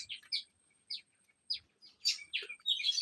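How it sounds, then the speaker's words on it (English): Small birds chirp and sing outdoors in short, sharp tweets spaced about half a second apart, then a denser flurry of calls, fairly close and clear against a quiet background with no voices. "I was actually talking about the birds"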